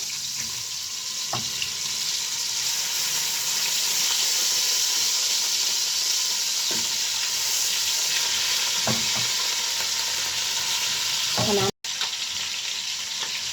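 Chicken pieces fry in a large pot, a loud, continuous, hissing sizzle with a few sharp crackles and a brief stirring clatter near the end, with no talk.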